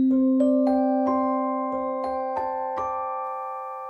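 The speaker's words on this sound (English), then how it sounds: "The track that I've chosen for harmony is a Celesta virtual instrument by the Crowhill" Celesta virtual instrument by Crowhill Company, a soft run of about eight bell-like notes at an even pace, each chiming and ringing on as they overlap, clear and alone.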